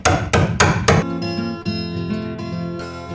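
A hammer strikes a chisel into wood four times in quick, loud succession, followed by a ringing, sustained tonal resonance that fades out.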